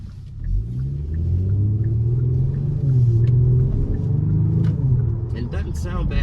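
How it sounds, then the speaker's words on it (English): A Kia Stinger's exhaust gives a deep, steady, loud rumble that swells slightly in the middle and sounds close to the listener. "This car actually does have a decent sounding exhaust."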